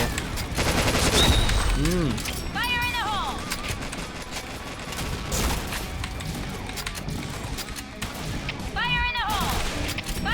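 Rapid gunfire from another player in the Point Blank online shooter, a dense run of sharp bursts across the whole stretch, mixed under someone talking.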